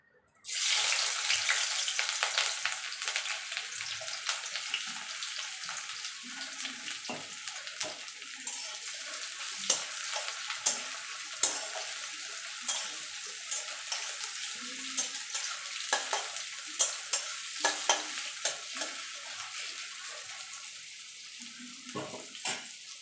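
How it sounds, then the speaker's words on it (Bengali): Onion frying in hot oil in a home kitchen, a steady loud hiss and crackle with scattered sharper pops and spatula stirring scrapes throughout, no talking. "এবারে এই তেলে পেঁয়াজটাও ভেজে নেব।"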